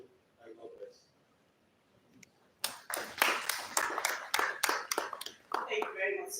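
An audience at a press conference for an African defence chiefs summit breaks into clapping after a speech, starting abruptly midway as scattered, distinct claps that thin out toward the end, following a stretch of quiet room talk.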